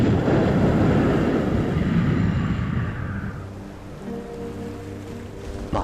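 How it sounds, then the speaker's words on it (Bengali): A cold wind sweeps through a ghost story, a loud rushing gust that swells at first and then eases into a quieter, lower drone with faint tonal hum beneath, no voices. "হঠাৎ এক প্রকার শীতল বাতাস প্রবাহিত হল।"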